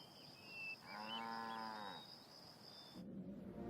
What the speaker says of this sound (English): the most European of farm animals, the dairy cow